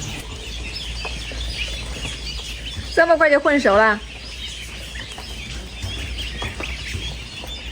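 A burst of several quick, loud duck calls rises for about a second from a flock of about 400 farm ducks, adults among younger birds, over steady outdoor background noise, with a person talking nearby.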